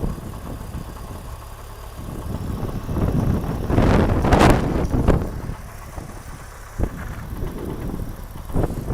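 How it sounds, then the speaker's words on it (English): A Porsche 911 of the 996 generation idles steadily nearby, with a brief louder swell of engine noise midway and some wind buffeting across the microphone. "So let's get a look, listen to that engine"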